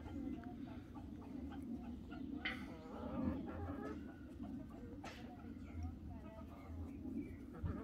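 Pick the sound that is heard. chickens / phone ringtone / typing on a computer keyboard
chickens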